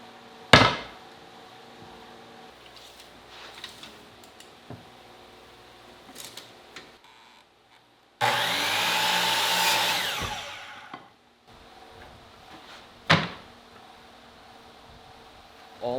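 A power saw cuts a piece of pallet wood to length in one steady, roaring pass of about two seconds. Scattered knocks and clunks of wood being handled come before and after, and one sharp thud stands out.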